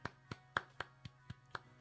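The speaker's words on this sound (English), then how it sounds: "Let's give a round of applause" A brief round of claps for skateboarder Nyjah Huston on a live stream, about eight sharp, evenly spaced claps from one person, close and fairly quiet.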